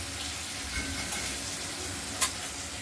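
Paneer pieces frying in a pan give a soft, steady sizzle with faint crackle throughout, plus one brief sharp tick near the end.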